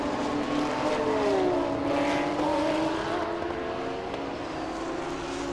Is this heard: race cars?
yes